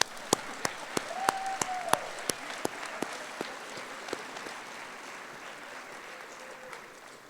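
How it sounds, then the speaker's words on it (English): Audience applause at a high school event, a scattered round of claps from a crowd in a hall, with sharp individual claps standing out, a brief whistle-like tone, fading toward the end. "Let's give them all a big round of applause."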